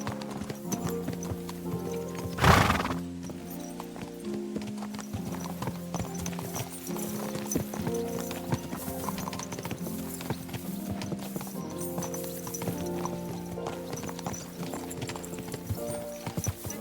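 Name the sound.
horses galloping, riding out in Kingdom Come Deliverance 2 video game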